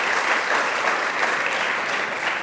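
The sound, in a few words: audience applause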